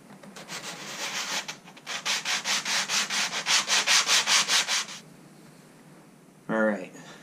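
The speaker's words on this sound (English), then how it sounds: "we'll lay them right on some sandpaper and clean those up too" Flat knife handle scales rubbed back and forth on sandpaper in a rhythmic series of gritty scraping strokes, close and clear, followed by a brief pause and one last short stroke.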